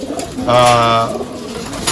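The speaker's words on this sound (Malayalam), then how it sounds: "ഈ പ്രാവാണ് കേട്ടോ" A pet racing pigeon gives a single close, loud coo lasting about half a second, with quiet surroundings before and after.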